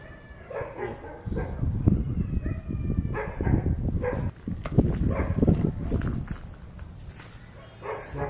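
Several dogs bark and yelp repeatedly in an outdoor spot at night, overlapping calls of varying distance forming a busy, continuous chorus with a few louder close barks.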